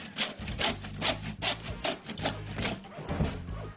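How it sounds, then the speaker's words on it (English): A handsaw cuts through a wooden lattice piece beside a centre batten in a furniture build, with steady back-and-forth rasping strokes that are close and fairly loud, with no talking. "We start by cutting our piece of lattice to one side of the centre batten."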